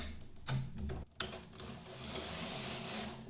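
A knitting machine carriage is pushed across a row set to KC, giving a few clicks and clacks followed by a sustained sliding, rasping rattle that continues to the end.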